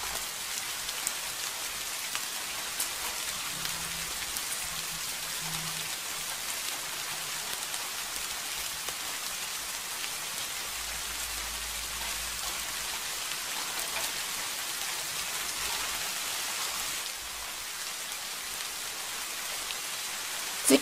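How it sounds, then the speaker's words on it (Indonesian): Steady rain falls continuously on surfaces, a dense even hiss with no pauses, loud and close throughout. "Kemudian turun hujan di daratan"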